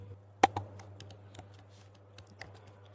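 A few scattered computer keyboard keystrokes, one sharp and louder near the start, then lighter irregular taps over a steady low electrical hum, with no talking.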